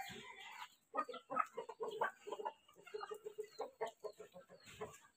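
Desi hens on a house rooftop cluck in short, irregular bursts, a few close birds calling in choppy clucks and brief croaks against a quiet background, with no talking.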